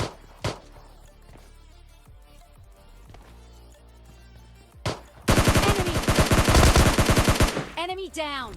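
Gunfire in the mobile game PUBG Mobile Lite: a few isolated shots and game sounds, then a loud sustained automatic burst lasting about three seconds.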